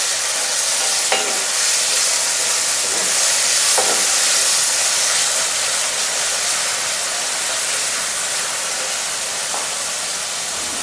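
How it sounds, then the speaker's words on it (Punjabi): Chopped tomatoes and green chillies sauté in a hot pan, giving a steady, loud sizzle and hiss throughout, with a few faint scrapes of stirring. "ਟਮਾਟਰ ਨੂੰ ਆਪਾਂ ਚੰਗੀ ਤਰ੍ਹਾਂ ਭੁੰਨਣਾ ਹੈ"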